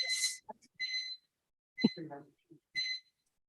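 An alarm beeps in short, bright bursts during a board of directors meeting, separated by quiet gaps, with a brief low thump or voice-like sound between beeps.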